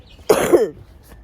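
A single harsh cough, close and loud, a short burst followed by quiet.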